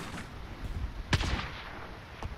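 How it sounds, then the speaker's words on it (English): Gunfire in Call of Duty Warzone: a few sharp shots crack out of a busy game mix, one loud report standing out, with a fainter burst near the end and no talk over it. "Okay, they're shooting at me."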